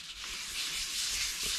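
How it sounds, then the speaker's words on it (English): Yorkshire grit sanding paste rubbed onto a piece of turned apple wood gives a continuous close, breathy scratching hiss, steady and even like fine sandpaper, with no voices. "You can hear it sounds like I'm going over it with fine grit sandpaper"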